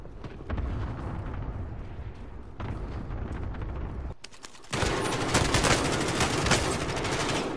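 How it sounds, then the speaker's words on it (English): Airstrike in Call of Duty Warzone Plunder: dense rapid bursts of explosions and gunfire rattle on continuously, briefly dipping before a louder, harsher barrage takes over, with no talk. "I've got some of the airstrike"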